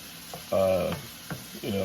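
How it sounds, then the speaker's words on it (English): Chicken frying in a pan, with bursts of sizzling that rise and fade alongside brief clatters of stirring. "you're basically just going to be pan frying the chicken"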